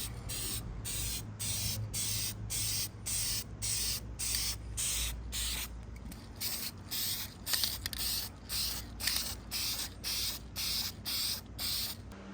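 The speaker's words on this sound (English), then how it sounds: "Alright, spraying the first coat of silver." Spray can hissing out a light first coat of silver paint onto a car wing, applied in steady repeated bursts of about half a second with short gaps, close and fairly loud, with no talking.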